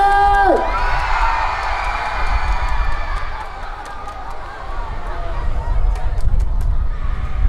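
Concert crowd at an outdoor youth festival in Andong screaming and cheering, a shout followed by sustained, dense cheering and whoops filling the space.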